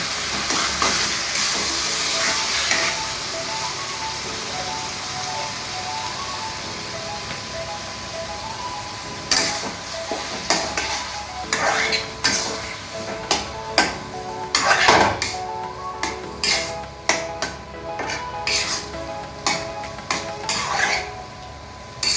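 Mashed roasted eggplant, masala and potatoes being mixed in a pan, with a soft frying hiss and then repeated spatula scrapes and metal clinks against the pan, close and alone.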